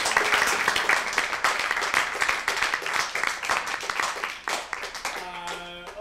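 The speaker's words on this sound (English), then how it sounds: "Let's give Carl a round of applause." Audience applause for Carl Malamud after a live webcast talk, sustained dense clapping from a full room lasting about six seconds, steady and fairly loud, with a few voices and a faint tone near the end.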